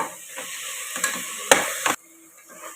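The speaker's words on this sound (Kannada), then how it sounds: "ಇದನ್ನು ಕೂಡ ಒಂದು 2-3 ನಿಮಿಷ ಹುರ್ಕೋಬೇಕು ಹಸಿ ವಾಸನೆ ಹೋಗೋವರೆಗೂ" Tomato frying with ginger garlic paste for egg biryani crackles in the pan under several quick spatula scrapes and stirs. The sizzle cuts off abruptly near the end, leaving only faint sounds.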